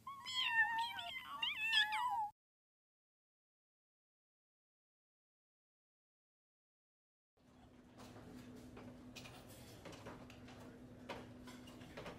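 Kittens give a quick series of high, wavering meows over about two seconds. After several seconds of silence comes a quieter stretch of room noise with faint ticking and rustling.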